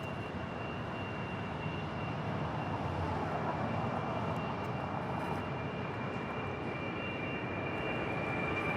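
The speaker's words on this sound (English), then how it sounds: "This is Asiana Airlines 286 departing to San Francisco on a 27-year-old 747-400 converted freighter." An Asiana Airlines Boeing 747-400 converted freighter, 27 years old, departs Los Angeles International Airport, its engines a broad, sustained distant roar that swells slightly as it builds across the whole stretch, with no voices.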